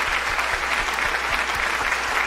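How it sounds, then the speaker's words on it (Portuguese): Wedding guests clap together in a steady, dense round of applause, close and loud, with no voices standing out. "Mais uma vez, uma salva de palmas."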